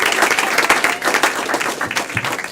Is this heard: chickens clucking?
no